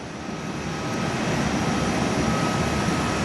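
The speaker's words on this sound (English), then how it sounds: "A second A320 Qantas being towed." Qantas A320 airliner being towed at Perth airport, heard from an indoor viewing area as a steady, loud engine-like drone with broadband rumble, continuous and unbroken, with no talking.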